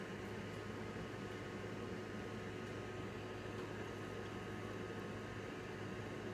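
A space heater blows warm air onto a Jamberry nail wrap held up close, giving a steady, even whir and hiss with a low hum that runs unchanged the whole time, with no talking.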